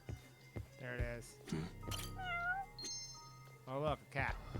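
A cat meows several times in the video game Judgment, clear mid-range cries spread across a few seconds, mixed with game noise and a voice talking over it.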